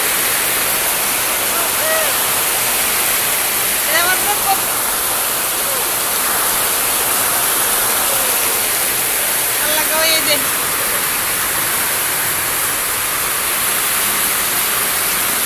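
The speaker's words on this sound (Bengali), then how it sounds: "বৃষ্টিতে পানির স্রোত দেখেন কিভাবে বৃষ্টি যাইতেছে" Heavy rain pours down on a street, with rainwater rushing along it in a dense, steady roar that fills the whole clip, while a voice briefly exclaims over it.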